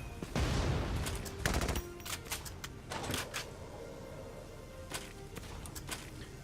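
Gunfire from the PS4 game Valkyria Chronicles 4: two heavy, close bursts of shots open, then a scatter of sharper, fainter single cracks and short volleys follows at irregular intervals.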